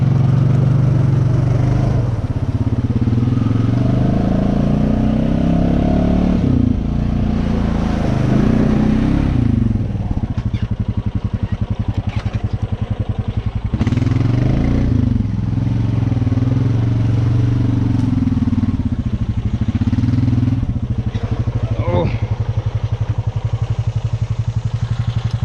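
A Honda Rancher ATV held on its front brake in a muddy hole, engine revving hard and steadily as the tires spin and churn mud, loud and close throughout with surging pitch and clattering.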